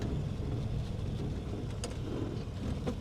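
A 1950s Standard Vanguard Phase 2 car drives along with a steady engine rumble and road noise as the gearbox is shifted down into second, a brief click or two over the drone.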